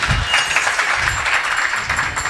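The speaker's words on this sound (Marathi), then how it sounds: "म्हणजे या टाळ्या दोन्ही अर्थी असतात बरं का" An audience applauds at a Marathi kirtan, steady loud clapping from a crowd that fills the hall for a couple of seconds.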